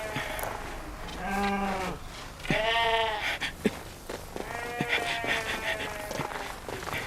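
Sheep in a flock bleat repeatedly, several loud, wavering calls overlapping one another at close range, with rustling movement and faint footsteps underneath and no clear speech.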